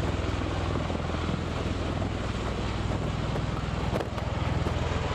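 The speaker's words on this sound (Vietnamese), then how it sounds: "Máy bay này có hai cánh quạt, ba lá và hai động cơ tuabin trục" A V-22 Osprey tiltrotor with two three-bladed rotors and two turboshaft engines makes a loud, steady rotor thump and turbine roar that holds constant throughout, with wind buffeting on the microphone.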